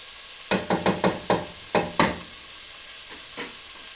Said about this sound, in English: So you want to make sure the garlic's mixed all the way through.